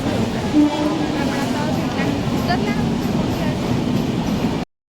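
A low, continuous rumble of a moving train, with faint rattling and occasional squeaks, steady throughout before cutting off.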